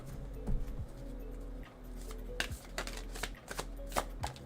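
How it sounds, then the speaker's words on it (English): A deck of tarot cards is shuffled close up, giving a run of crisp riffling flicks and soft slaps over a low steady hum, with no voices. "I'm gonna shuffle it one more time."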